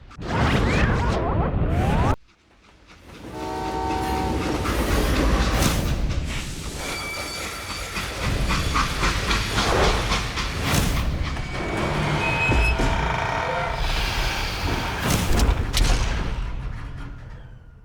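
A train grinds to a stop in the Western video game Call of Juarez: Gunslinger. Dense rumbling and clattering noise carries intermittent high metallic squeals, broken by a sudden silent gap near the start, with no speech.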